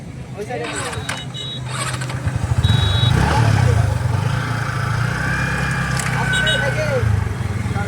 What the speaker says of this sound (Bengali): এখন দাদার বাইক চালাবো